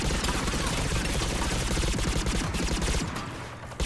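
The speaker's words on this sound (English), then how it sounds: "Using the Geth pulse rifle, which is one of the unlockable weapons" Geth pulse rifle fire in Mass Effect 3 multiplayer rattles out as a rapid, steady stream of loud energy shots, cutting off near the end with a brief pause before one final burst.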